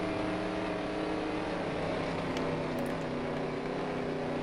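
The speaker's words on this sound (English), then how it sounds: "I know, I'll downshift into second." A race car in Dirt Track Racing 2 drops into second gear, its engine droning at a steady high pitch with a slight rise and fall, loud and continuous with no break in the sound.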